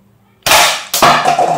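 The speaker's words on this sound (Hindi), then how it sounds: "अब फायर टेस्ट करते हैं इन पेपर कप्स पर। सबसे पहले ऊपर वाले कप को मारते हैं।" Two loud, close snaps from an AWM toy sniper gun fired at paper cups, each a sharp crack with a short rattling tail, the second quickly following the first.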